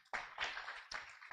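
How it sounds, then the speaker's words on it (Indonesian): A church congregation clapping in praise, three bursts of dense applause from many hands in quick succession, fairly close, with no one talking. "Tepuk tangan buat Tuhan."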